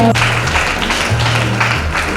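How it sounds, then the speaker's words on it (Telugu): An audience at a church gathering claps, a dense steady wash of applause over a low sustained musical hum, loud and continuous. "చప్పట్లు కొట్టాడు నాకు."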